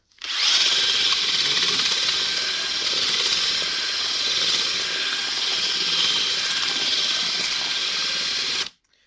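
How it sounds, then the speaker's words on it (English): A power drill whirs loudly and continuously for several seconds, churning thick mortar, then cuts off abruptly. "using this drill mixing it instead"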